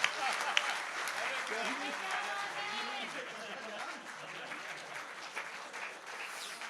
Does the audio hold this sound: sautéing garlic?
no